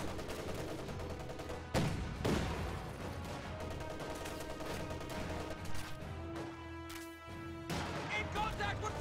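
An MG-34 machine gun and rifles fire in a video game battle around a building, with rapid bursts and sharp single shots crackling over a busy soundscape while someone talks throughout.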